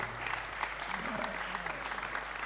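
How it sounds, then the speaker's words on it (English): Audience applause at a church conference session, a short, fairly faint spread of clapping from a crowd over a steady low hum. "clap if you want to clap"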